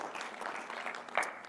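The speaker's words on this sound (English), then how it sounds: "let's give our panelists a round of applause" Brief audience applause for a panel of speakers at a conference session, a dense wash of clapping throughout with a slightly louder burst near the end.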